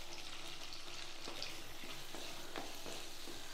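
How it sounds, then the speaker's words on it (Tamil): Quiet, steady sizzling of curry masala frying in a pan with curry leaves, with occasional soft scraping from stirring. "மசாலா வதங்கிட்டுருக்கு, தண்ணியும் கொதிச்சிருச்சு."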